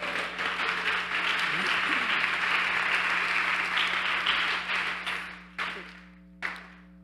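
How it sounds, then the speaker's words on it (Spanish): A church congregation at a Bible seminar breaks into sustained, dense applause that holds steady for several seconds, then thins to a few final claps, with faint voices underneath. "Dale ese aplauso."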